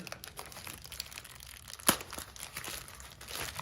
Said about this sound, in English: I'm gonna rip this open.